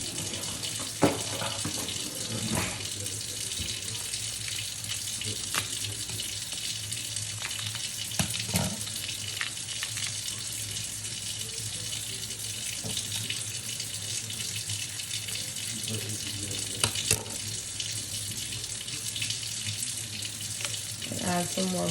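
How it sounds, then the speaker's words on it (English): Warm water running from a kitchen tap, a steady hissing stream held the whole time with faint clinks and small handling knocks, quiet and close. "Now I have my warm water running"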